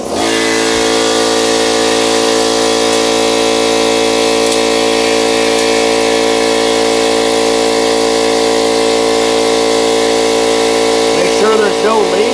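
Compressed air rushes through a valve into a pressure pot for resin casting, a loud, steady hiss and drone that holds constant throughout, with a brief warbling flutter near the end.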